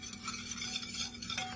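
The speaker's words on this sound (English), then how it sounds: "So now what we're going to do is we're going to whisk this." A whisk stirs balsamic vinegar, sugar and salt into a marinade in a bowl, making a faint, steady scraping and swishing over a low background hum.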